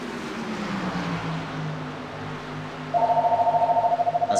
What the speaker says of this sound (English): As my phone starts ringing,